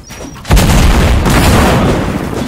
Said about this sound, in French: Des grenades sticky